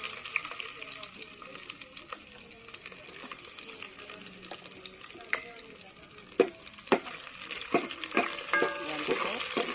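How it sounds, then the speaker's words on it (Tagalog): Garlic and onion sautéing in a pan for mung bean stew, a steady close hiss of frying punctuated by sharp clicks and scrapes of a utensil, with faint voice in the background. "magigisa tayo ng bawang"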